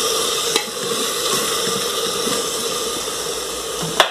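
Chicken and rice being stirred in a hot frying pan, a steady sizzle with soft scraping and shuffling of the food throughout, plus a couple of sharp clinks of the utensil against the pan.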